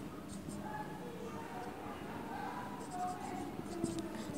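A pen scratches quietly on paper while numbers are written down, soft and close, with faint background room noise.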